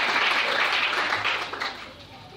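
A church congregation in a French-language Sunday service applauds and cheers for the Lord, a dense, steady roar of clapping and voices that carries on loudly before easing off slightly toward the end.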